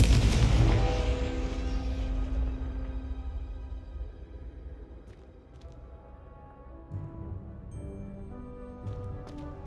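A Confringo explosive spell from Hogwarts Legacy erupts in a loud booming blast that rolls and slowly decays, leaving quieter game ambience and small clicks afterward.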